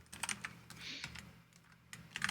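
Computer keyboard keys clack in quick, uneven bursts of typing, close and fairly faint, with a brief lull in the middle before a final flurry of keystrokes.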